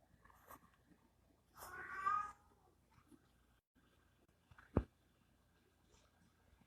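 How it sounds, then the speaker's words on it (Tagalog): A short cat meow rises briefly, fairly close, followed later by a sharp knock against a quiet room background. "Ang pusa ko may ingay."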